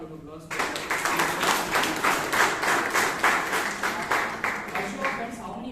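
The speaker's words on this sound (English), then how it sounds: "Can we have a bigger round of applause?" A meeting audience claps loudly and steadily for several seconds, with dense, evenly sustained applause starting abruptly after a brief moment of talk.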